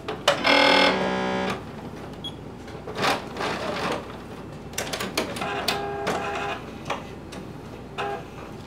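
A sewing machine stitches onto leather in short mechanical bursts with brief pauses between runs, close and fairly quiet, with no voices.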